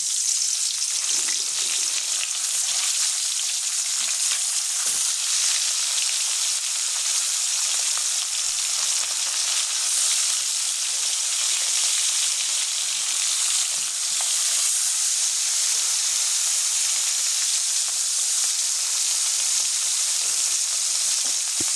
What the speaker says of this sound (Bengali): আমার তেলটা গরম হয়ে গেছে। এখন আমি মাছটা ছেড়ে দেব।